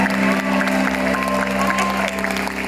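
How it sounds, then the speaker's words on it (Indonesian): Audience in a studio clapping at a family game show, with steady, dense applause holding at full level throughout, mixed with crowd noise and a broadcast voice. "tepuk tangan dong"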